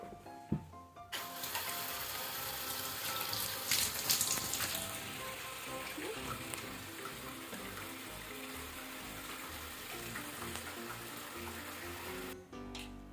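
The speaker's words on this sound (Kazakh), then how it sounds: "Достар, алдымен ваннамызға суды толтырып алайық." Tap water running steadily into a bathtub as it fills, a continuous broadband rush that holds for about twelve seconds before cutting off abruptly.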